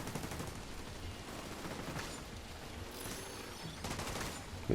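Quiet bursts of automatic gunfire crackle in a shooter video game, rapid volleys repeating at a distance through a low, noisy background.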